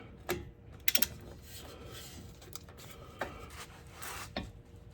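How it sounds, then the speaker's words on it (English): Metal ratcheting clicks and clanks as an adjustable wrench with an extended handle works a brake bolt on a 2015 Toyota Highlander in a home garage, with a sharp cluster of clicks near the start and scattered knocks after. "adjustable wrench, adjustable length for the wrench, so you get more leverage"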